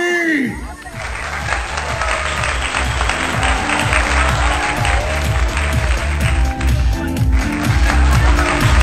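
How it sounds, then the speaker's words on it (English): A crowd at the Miss Arete Tagaytay beauty pageant applauds the newly crowned winner, a loud, sustained wash of clapping over a thumping, rhythmic music track that keeps pulsing underneath. "A big round of applause, ladies and gentlemen."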